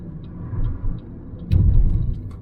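BYD Dolphin Surf, a front-wheel-drive car, taken swiftly around a roundabout: low, steady road and motor rumble from inside the cabin, swelling louder partway through with faint ticking over the top.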